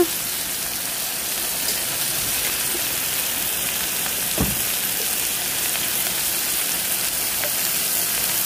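Spices for egg curry fry and sizzle in a pan, a dense, continuous crackling hiss held at a steady level close by, with a brief stir near the middle.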